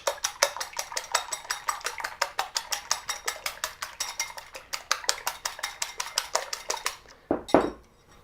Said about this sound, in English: we're going to whisk those eggs first